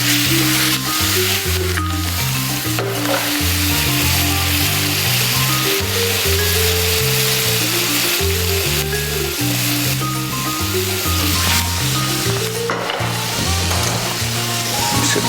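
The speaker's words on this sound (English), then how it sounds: "take your oil, your butter from your pan and just drizzle it over your steak" Steak frying in a pan with oil and butter, a loud, dense, continuous sizzle close up with occasional spoon scrapes and soft clinks under a steady low hum.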